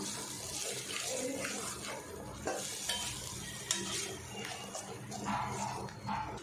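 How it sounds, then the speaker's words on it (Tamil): Chicken gravy masala and curd paste sautéing in a pan on low flame, a soft, low sizzle under repeated stirring and scraping, faint and close. "சேர்த்துட்டு லோ ஃப்ளேம்லேயே இதை வதக்கிட்டுருவோம்"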